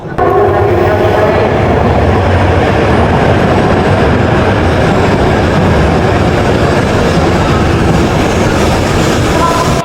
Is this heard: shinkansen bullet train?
yes